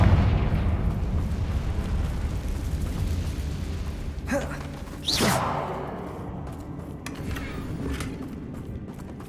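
Confringo fire spell blasts in the PS5 game Hogwarts Legacy: dense rumbling booms, then a sharp rising burst about halfway through, fading into a lingering roar.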